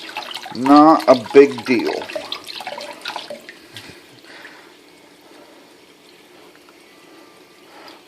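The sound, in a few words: rinsing a vape clearomizer under running tap water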